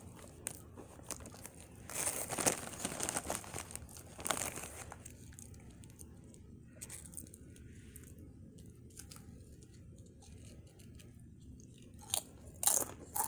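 Close, crisp bites and crunching of Doritos Tangy Pickle chips, loud crackly bursts followed by quieter chewing, with a rustle of a bag.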